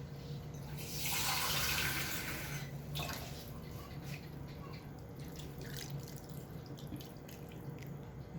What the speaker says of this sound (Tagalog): mag-add tayo ng tubig. Nagdagan natin ng tubig